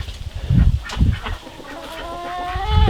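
Chickens cluck around a coop, several short low clucks in quick succession up close, followed by a drawn-out, wavering call from one bird.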